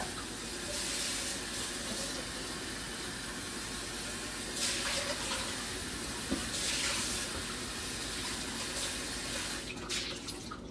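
Water runs from a kitchen tap during a rinse while cooking spaghetti sauce, a steady hissing flow with slight surges and a few clinks, continuous and fairly even.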